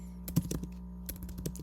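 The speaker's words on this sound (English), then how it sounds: "If I can type today" Keystrokes on a computer keyboard come in two brief clusters of soft, close clicks and taps over a steady low background hum.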